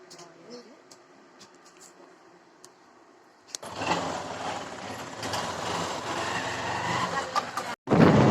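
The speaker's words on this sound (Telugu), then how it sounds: "మావయ్య అయితే బండి తీస్తున్నాడు" A motorbike is brought out: quiet surroundings with light clicks, then an engine starts abruptly and runs at a loud, steady rumble, with a brief cut and a louder burst at the end; people talk over it.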